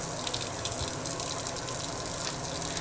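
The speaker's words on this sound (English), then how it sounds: "After we wet our hands, we get some soap. I like to work up a quick lather." Hands being lathered with soap under a running tap make a steady, even rush of water that holds at one level for a few seconds, with faint splashing and no voices.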